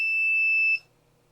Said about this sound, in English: because there is no reflection, we get the buzzer